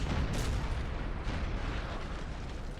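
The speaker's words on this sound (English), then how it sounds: "this French artillery is just obliterating us on this flank" French artillery fires in the Napoleon Total War battle, a dense continuous rumble of booming cannon blasts rolling together, loud and close, with no speech.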